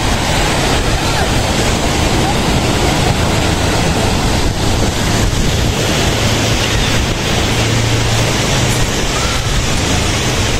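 Loud, steady roar of ocean surf with big waves seen from a large boat, wind buffeting the microphone, continuous broadband rushing with no clear pauses.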